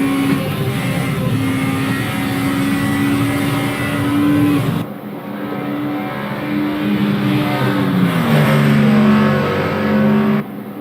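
DTM touring race cars from the 1992 season roar around the Nordschleife, engines loud and close as one car overtakes another for position, with pitch rising through the gears, an abrupt cut near the middle, and a second car's howl following.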